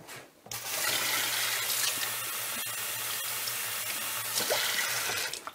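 Tap water runs steadily from a faucet in a home kitchen for soup-making, a continuous broadband rush that starts after a brief pause and holds level until it stops abruptly near the end, with no talking.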